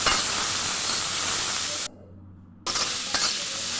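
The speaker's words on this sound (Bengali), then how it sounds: "এখন রসুন দিয়ে শাকটা বাগার দিব। শাকটা বাগার দিয়ে দিলাম।" Greens tempered with garlic and fried dried chillies hiss loudly in hot oil, a dense close sizzle that briefly cuts out midway before resuming, with no talking.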